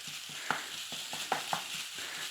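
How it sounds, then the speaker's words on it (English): Steady hiss of onions frying in a pan, with a few soft clicks and stirring taps scattered through it. "it should be already sizzling away like it is"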